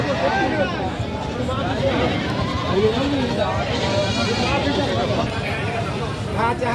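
Goats bleating at a busy goat market, with several overlapping calls near and farther off over a constant crowd babble and people talking throughout.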